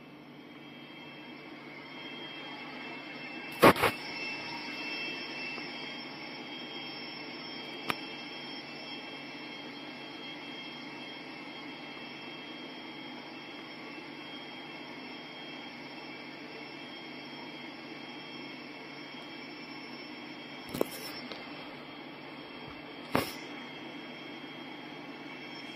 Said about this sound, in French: Vous êtes à bord d'une locomotive AC4400CW.